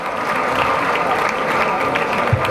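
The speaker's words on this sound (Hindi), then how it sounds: "तो तालियां भी उतनी ही भरपूर होनी चाहिए" An audience at a Pakistani literature festival gives poet Sughra Sadaf full, sustained applause, loud and even throughout, with a faint crowd murmur beneath the clapping.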